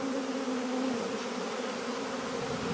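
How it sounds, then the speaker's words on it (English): Bees swarm and buzz close up around someone's neck in the wilderness, a steady, dense droning hum that runs unbroken and fairly loud throughout. "You definitely have a full neck of bees."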